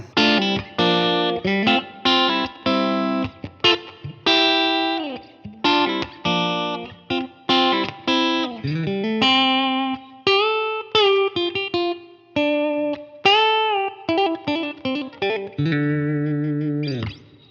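An electric guitar with split-coil bridge and middle pickups plays a lively run of single notes, bends and short chords, with distortion, chorus and reverb colouring each phrase, ending on a held note, with no talking over it.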